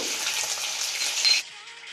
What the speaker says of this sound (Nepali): तेल तातिसकेको छ। अब यसमा म खुर्सानी हाल्दै, सुकेको खुर्सानी। अब चाहिँ यसमा मैले प्याज हाल्दै।